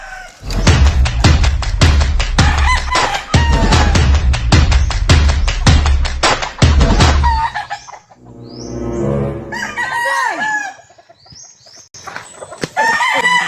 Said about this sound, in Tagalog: Kawawa naman manok.